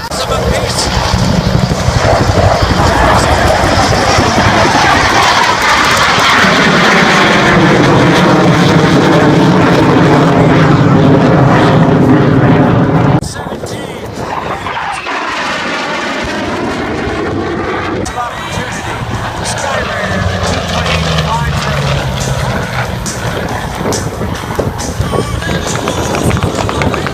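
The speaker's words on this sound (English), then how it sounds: "you see the Skyraider and the T-28, rocket-equipped T-28 of a piece." Propeller aircraft, a Skyraider and a rocket-equipped T-28, flying at the 2014 Wings Over Houston Airshow in a Vietnam War demo, a loud sustained engine roar that swells and fades as they pass, under an announcer's talk and crowd noise.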